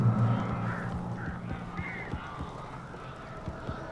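Birds cawing inside a cabin in the video game Alan Wake, several harsh calls in the first seconds over a low drone, then fainter scattered calls and knocks.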